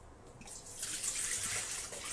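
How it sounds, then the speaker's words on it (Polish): Water pours into a Thermomix mixing bowl in a steady, splashing stream that grows slightly louder after a quieter start, heard alone and fairly soft. "1200 gram wody do naczynia miksującego"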